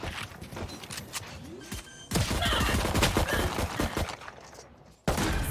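Gunfire and explosive bursts from a competitive tactical shooter match, dense rapid cracks and a heavy blast-like surge, loud and continuous with a brief drop before resuming.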